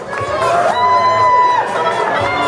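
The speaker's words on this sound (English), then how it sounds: "They're also needing to hear you cheer for them." A crowd at a roller derby bout cheers and chatters steadily in a large hall, loud and close, with a whistle-like tone held in the middle and voices mixed in.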